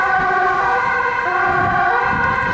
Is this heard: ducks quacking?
no